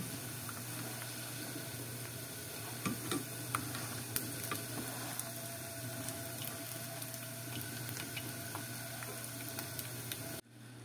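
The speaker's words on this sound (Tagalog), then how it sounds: "Magpainit lang ho tayo ng mantika sa ating kawali. At saka natin ilalagay ang 1 cup ng ating mani." Peanuts fry steadily in hot oil in a pan, giving a continuous dense sizzle with occasional small pops and ticks, close and even throughout before cutting off near the end.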